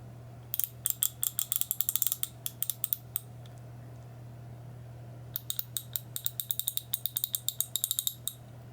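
Hand ratchet wrench with a socket fitted, its pawl clicking in fast bursts of crisp ticks as the handle swings back and forth, two separate runs with a pause between, close and fairly quiet over a steady low hum.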